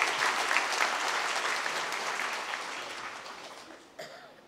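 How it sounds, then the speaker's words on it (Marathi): An audience claps steadily in honour of a newly elected bishop, Thomas Francis D'Souza, at his Holy Mass and felicitation ceremony, filling a large space and gradually fading, with a single sharp clap or knock near the end. "आपण जोरदार टाळ्या वाजवून आपल्या लाडक्या बिशपांचा इथे सत्कार करायचा आहे"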